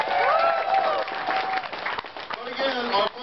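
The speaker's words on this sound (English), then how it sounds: "Another round of applause, please." Crowd applause at a fundraising evening at Redskins Park, sustained clapping from a room full of people with chatter and voices layered over it.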